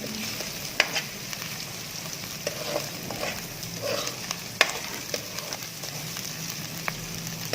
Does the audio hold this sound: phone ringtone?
no